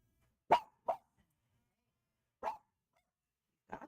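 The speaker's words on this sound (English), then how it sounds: "I apologize for the dogs." Several short dog barks, small Chihuahuas, ring out in a quiet room: a sharp pair close together, a pause, then two more single yaps spaced apart, moderately loud with silence between.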